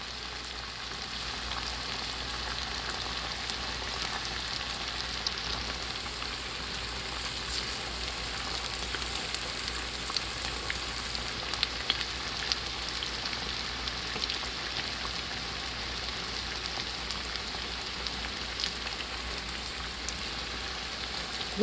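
Samosas in homemade pepper wraps frying in hot oil, a steady dense sizzle and crackle that holds evenly for the whole stretch, close and alone, with a few slightly louder pops.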